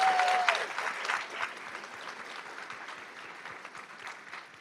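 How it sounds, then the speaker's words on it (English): An audience at a college honor society induction ceremony and student awards applauds the vocalists and musicians, a dense, steady clapping that starts loud and slowly fades over several seconds. "let's give it up for our vocalists"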